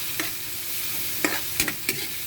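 Food fries in a pan with a continuous hiss, while a few sharp stirring scrapes and clacks of a utensil sound close by.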